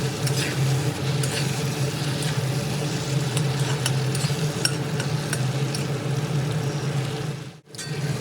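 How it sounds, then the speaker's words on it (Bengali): Pumpkin pieces stir-fried with spices over a low to medium flame give a steady, close sizzle with scraping stir strokes and a low background hum, then briefly drop away near the end. "তবে চুলার ফ্লেম লো টু মিডিয়ামে রেখে প্রায় মিনিট 3 সময় ধরে মশলার সঙ্গে কুমড়ো কষিয়ে নেব।"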